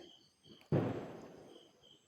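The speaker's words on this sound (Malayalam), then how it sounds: "കണ്ടോ, പടക്കം നല്ലതുപോലെ പൊട്ടിക്കുന്നുണ്ട് എല്ലായിടത്തും." A single muffled firecracker boom bursts out from a distance and fades into a brief rumble, with faint background hum before and after.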